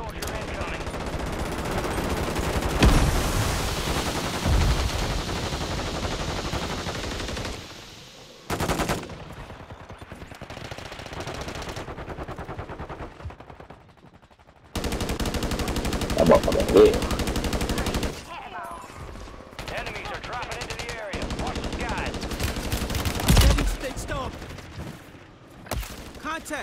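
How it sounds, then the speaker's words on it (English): Call of Duty gunfire with incendiary rounds, bursts of rapid automatic fire and sharp shots in loud stretches broken by brief quieter gaps, with game effects mixed in. "That's an incendiary round."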